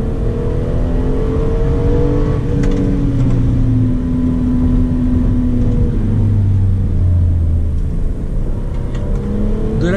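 A Hyundai Azera with a 3.3 V6 accelerates along a country road, heard from inside the cabin: a loud, close engine drone climbs in pitch through the gears, with tire and wind rush underneath.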